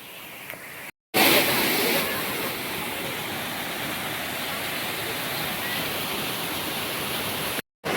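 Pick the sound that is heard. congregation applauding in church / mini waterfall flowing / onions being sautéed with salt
mini waterfall flowing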